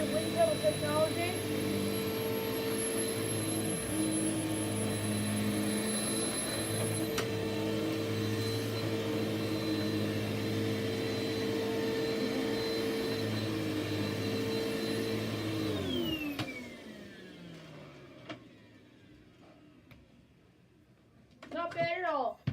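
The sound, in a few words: Hoover vacuum cleaner with wind tunnel technology running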